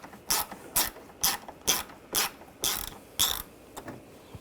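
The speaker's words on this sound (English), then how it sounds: "at the base of the grill, you're going to use a T30 socket, and on each side there is a screw" T30 socket ratchet on a 2009-2017 VW Tiguan taking out grille base screws during intercooler replacement: seven sharp, evenly spaced ratcheting bursts, close and clear with no talk.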